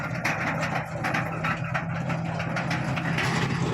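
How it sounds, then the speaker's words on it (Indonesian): Small D5 diesel locomotive pushing empty sugar cane wagons in reverse, a steady low engine drone with faint rattling and clanking from the wagons, continuous and fairly close. "lori kosongan akan didorong mundur oleh lokomotif kecil D5 itu"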